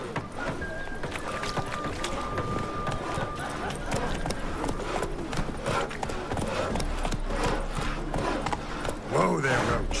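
Geralt's horse Roach clip-clops at a gallop through the open world of the video game Witcher 3, a steady near hoofbeat rhythm under ambient game music and water-like background, with some talk.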